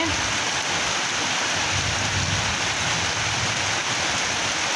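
Steady rain pours down in a dense, continuous hiss with no breaks.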